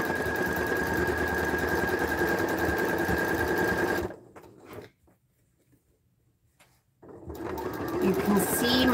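A home sewing machine runs in a fast, steady whir while stitching a seam on fabric gift wrap, stopping for a few seconds of near silence before starting up again, close by.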